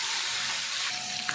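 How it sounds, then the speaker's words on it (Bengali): Rohu fish pieces fry in hot oil, giving a brief, loud, dense sizzle with steady crackling throughout. "এইভাবে আমি সবগুলো মাছ ভেজে নেব"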